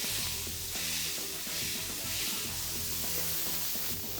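A burger patty sizzles loudly on a Traeger griddle as it is smashed flat, with a constant close crackling hiss and small spattering pops throughout, no voices.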